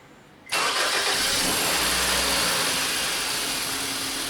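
A 2001-2005 Honda Civic, just fitted with a new TDC sensor, cranks and catches after half a second of quiet, then settles into a steady, close idle as it warms up.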